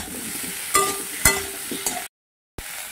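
Potatoes with garlic and ginger paste being sautéed in a pan give a soft, steady sizzle punctuated by a few sharp clinks of a utensil against the pan, followed by a brief dropout and another clink.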